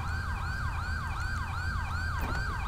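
A wailing ambulance siren in a police roleplay video game, set during a traffic stop in Blaine County, cycling steadily through rising and falling sweeps about every half second, loud and close over a low engine rumble.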